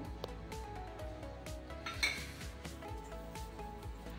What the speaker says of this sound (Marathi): तर थाटाला इथे मी तेल लावून घेत आहे.